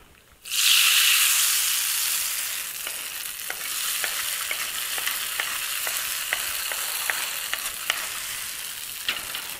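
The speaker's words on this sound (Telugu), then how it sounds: "ఇప్పుడు ఈ జీడిపప్పు వేయించుకున్నాం కదా, దీన్ని పొంగల్లో వేసుకుందాం." Fried cashews tip into ghee pongal with a sudden loud sizzle that fades into a steady frying hiss, while a spoon stirs through it with regular light clinks against the pot.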